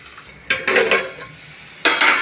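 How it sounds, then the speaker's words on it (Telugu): Onions fry with curry leaves in a pan for a drumstick curry: two loud bursts of spatula scraping and clatter over a faint background sizzle, with no voices. "ఉల్లిపాయలు వేసుకుందాం కొంతసేపు వేగనిద్దామండి"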